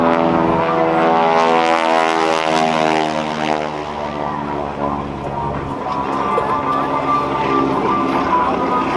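A propeller airplane flies airshow maneuvers at the 2014 NAS Oceana Airshow, its engine a loud, steady, droning roar that holds throughout with a slight dip and swell in pitch partway through.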